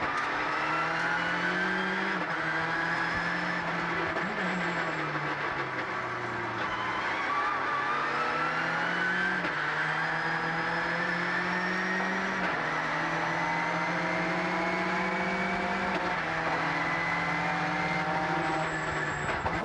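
JGTC GT race cars, including the 1997 Calsonic Nissan Skyline, racing past with engines rising and falling through repeated gear changes, a loud continuous multi-car roar without speech.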